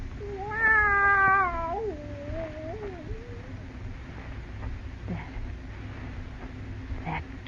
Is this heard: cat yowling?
yes